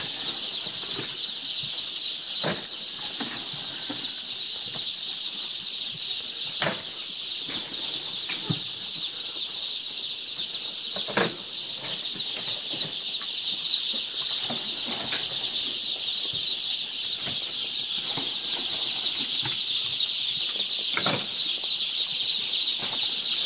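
Five thousand laying-hen chicks in a heated poultry house in western Cameroon, giving a steady, dense chorus of high peeping throughout, with occasional soft fluttering and scuffling bursts and no voices.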